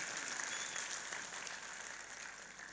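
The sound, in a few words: mushaira audience applauding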